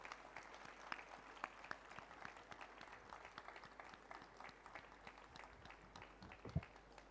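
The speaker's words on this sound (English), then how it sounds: "Can we have a big round of applause for the NCC cadets?" Applause for NCC cadets at an alumni event, a faint, distant crowd clapping steadily with a few sharper claps, continuing evenly for several seconds.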